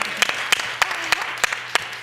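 Applause for a PhD student at a women-in-business event, heard as a sparse run of distinct, regular claps, roughly one every third of a second, over a faint low hum.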